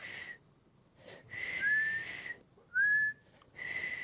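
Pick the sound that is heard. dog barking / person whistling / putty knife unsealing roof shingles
person whistling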